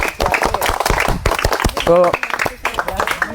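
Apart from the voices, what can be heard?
audience clapping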